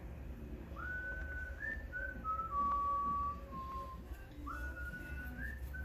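A melodic whistled tune from a song plays in short rising and falling phrases. The whistle is clear and upfront over a low background hum.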